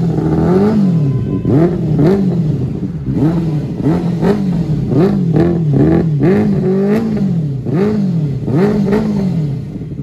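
A Benelli 600i motorcycle engine revved repeatedly while idling, each throttle blip rising and falling in pitch in a regular rhythm for about ten seconds, loud and close with no voices.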